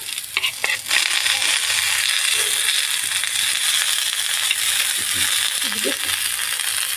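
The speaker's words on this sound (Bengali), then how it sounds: "এবার আমি একে একে মশলাগুলো দিয়ে দিচ্ছি একটু রসুন বাটা একটু আদা বাটা একটু হলুদের গুঁড়ো" Prawns frying with garlic paste, ginger paste and turmeric for a chilli prawn dish, a loud continuous sizzle with a few clattering stirs near the start and later, close up, with no talk.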